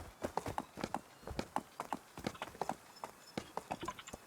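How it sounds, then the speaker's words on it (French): Horse hooves clip-clop in a quick, steady rhythm in the video game Rust, clear but fairly quiet, with no voices. "Moi je suis en train de chase le cheval."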